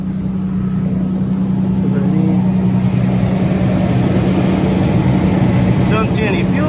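A second-generation Toyota Tacoma engine runs at a steady idle just after a fuel pump replacement, a close, even drone held for the whole stretch with no revving.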